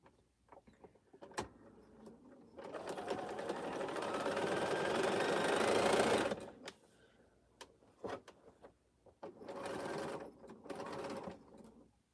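A Bernina sewing machine stitches a quilt in one long steady run of several seconds, then stops; a shorter burst of stitching follows after a pause, with small clicks and handling noises between.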